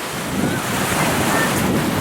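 Ocean surf rolls onto a beach, a steady hissing wash of breaking waves mixed with gusty wind buffeting the microphone.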